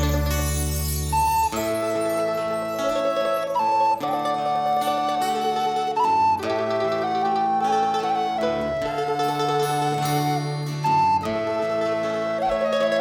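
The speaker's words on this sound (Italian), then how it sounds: "ciaramedda suona così" A ciaramedda, the Sicilian bagpipe, plays a Christmas lullaby as a steady, sustained drone with a reedy melody that shifts between held notes, full and continuous with no voices.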